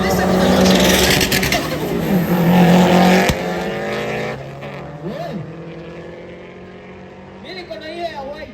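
Race cars with 6-speed and 5-speed manual gearboxes in a rolling race on a road, engines loud and roaring, then easing and rising through shifts, with a commentator talking over them and a crowd around.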